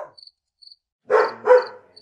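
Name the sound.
dog barking in the distance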